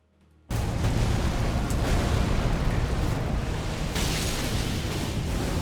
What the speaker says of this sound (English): He's exploding now when I do this.